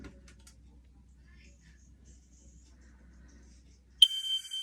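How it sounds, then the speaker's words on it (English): A home smoke alarm sounds near the end during its monthly test, a loud, shrill electronic beep that starts abruptly after near-silence and keeps going to the end. "I'm gonna perform the monthly smoke alarm test for May."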